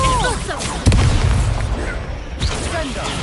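A Confringo spell explodes in a video game with a loud, close boom and a sharp impact, then a second blast follows, set amid busy battle noise and voices.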